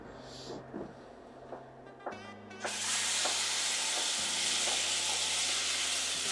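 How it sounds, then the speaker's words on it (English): Food sizzling loudly in a hot wok with a little avocado and vegetable oil blend, a steady hiss that surges up and holds after a few light clanks and taps, with no talking. "Get that sizzling going."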